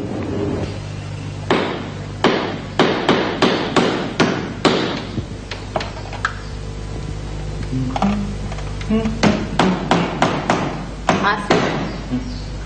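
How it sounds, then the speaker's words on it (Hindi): Repeated sharp hammer blows land in quick irregular bursts, loud and close, with pauses between runs of strikes. "हर हथौड़ी की आवाज"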